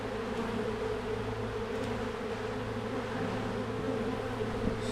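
A swarm of honeybees around a swarm trap and comb hums steadily and densely at close range, a continuous low buzz with no voices.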